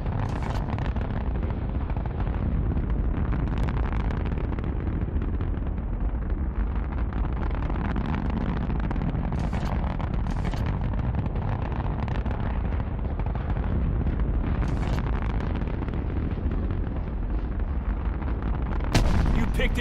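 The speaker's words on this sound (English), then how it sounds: "let's test fire a few rounds" Test-fired rounds boom in Call of Duty Black Ops 4 over a loud, constant roar of engine and wind, with scattered sharp shots punching through the rumble and a final louder crack near the end.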